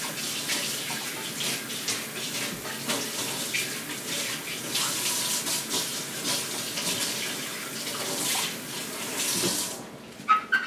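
Water runs from a kitchen tap in a steady hissing stream while a cutting board is washed under it, with faint handling knocks, then the flow stops abruptly near the end.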